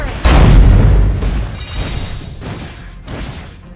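A turret destroyed in Mobile Legends sets off a loud, close boom with a deep crashing burst, followed by rumbling debris and a couple of smaller thuds fading out.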